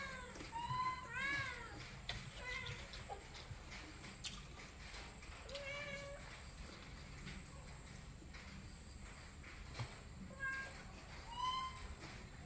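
Pet cats meow repeatedly, some rising and falling cries, over a steady background hiss and patter of rain; the calls come and go at moderate distance.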